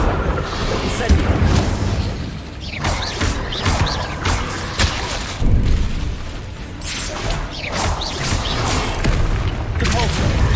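The Incendio fire spell in Hogwarts Legacy lets off a run of heavy booming bursts and whooshing blasts in a PC combat scene. The impacts recur every second or two, loud and close, over a constant rumbling bed.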